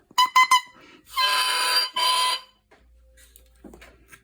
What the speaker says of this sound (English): Here's the crow again, or the beep in the crow.